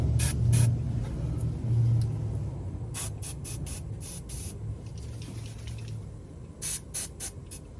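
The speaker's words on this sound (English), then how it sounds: "Use a little penetrating fluid, help loosen it up." Penetrating fluid sprayed onto a Jeep JK lower control arm bolt, heard as several short close hissing bursts from an aerosol can, separated by pauses, with a faint low hum beneath.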